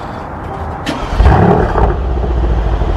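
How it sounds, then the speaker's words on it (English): A Mercedes-Benz C63 AMG with stock exhaust in comfort mode, a loud, close, deep engine rumble that swells into a brief rev before settling into a steady idle burble. "So it is a stock exhaust, but it still sounds really,"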